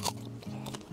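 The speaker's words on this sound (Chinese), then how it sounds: "每一个枣都是嘎嘣脆" A crisp, fresh jujube picked from a potted tree is bitten into close up, giving one sharp crunch at the start followed by quieter chewing.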